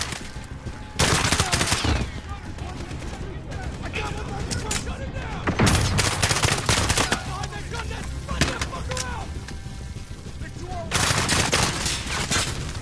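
Gunfire in the Call of Duty Modern Warfare video game: repeated bursts of automatic rifle fire and sharp shots with mechanical clatter over ongoing battle ambience, loud and close, with someone talking over it.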